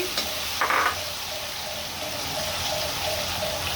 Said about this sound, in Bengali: এখন দিচ্ছি চিংড়ি মাছ, চিংড়ি মাছ দিচ্ছি